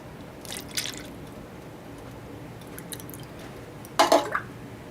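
Melted beeswax poured from a pot makes a faint, soft liquid trickle with light drips, ending in a brief, louder burst of splashing near the end.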